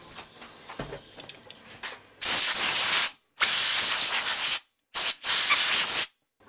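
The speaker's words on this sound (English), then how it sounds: "A bit contact cleaner." Contact cleaner sprayed onto an LCD screen circuit board: four loud close hissing bursts, each roughly a second long with brief gaps, after some quiet handling clicks.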